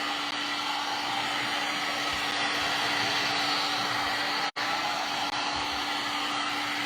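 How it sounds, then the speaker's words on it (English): A heat gun blows steadily and loudly close by while thrift store chairs are refinished near vinyl, giving a continuous broadband rushing hiss with a faint hum and one brief dropout, no talking. "You don't want it with your heat gun."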